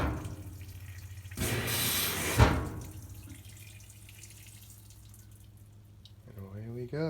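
A new GE washing machine fills with cold water, a brief loud gushing burst followed by a quieter steady trickle and hum, with a short voice fragment near the end.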